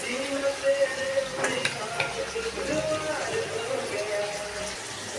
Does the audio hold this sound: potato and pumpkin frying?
yes